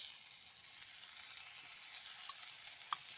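Oil sizzles around potatoes frying in a pan, a soft, steady hiss with a couple of small pops near the end.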